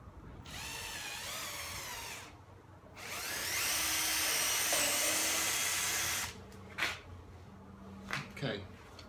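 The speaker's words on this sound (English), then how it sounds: "I'm going to drill one pin, one hole here" Power drill boring a dowel hole into bent laminated wood for joining two semicircles with wooden pins, a steady whining run, a brief pause, then a longer louder bore, ending in short bursts, with some talk around it.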